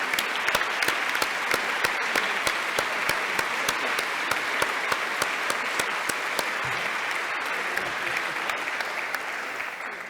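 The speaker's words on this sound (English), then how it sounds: "You deserve a round of applause as well." Sustained audience applause filling a conference hall at the ISMB/ECCB 2017 closing ceremony, dense steady clapping with sharp individual claps standing out, loud and continuous for about ten seconds before easing slightly at the end.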